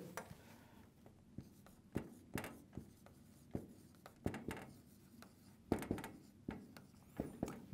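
Chalk or marker writing on a board during a maths lesson on volume formulas: a quiet series of scratchy strokes and taps in an irregular rhythm, close and clear, with no talking.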